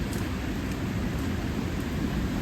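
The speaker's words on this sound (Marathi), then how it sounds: "मस्त पाऊस आहे" Steady rain falls in the waterfall country around Bhandardara in the morning. A dense, even hiss fills the whole stretch close to the microphone, with no voices.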